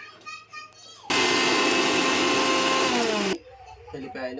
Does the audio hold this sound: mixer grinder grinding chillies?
yes